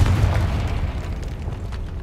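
A Confringo fire spell detonates in the video game Hogwarts Legacy, a loud, deep boom that rumbles and fades out over about two seconds, heard alone.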